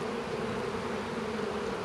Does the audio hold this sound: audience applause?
no